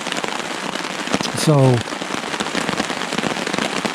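Rain patters on a tarp over a campsite at Sixth Lake in the Essex Chain Lakes, a dense, steady patter close overhead, with a brief spoken word and a short tonal sound partway through.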